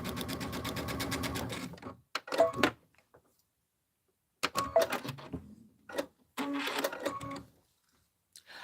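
Home sewing machine stitching a quarter-inch seam with a quarter-inch flange foot, close and clear, running in several rapid rhythmic bursts separated by pauses, with faint handling clicks and no talking.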